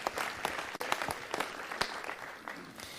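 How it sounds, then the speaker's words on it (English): Audience at a Las Vegas city council meeting claps in a scattered, moderately distant round, individual hand claps standing out as sharp irregular bursts. "So let's give them a round of applause for their contributions."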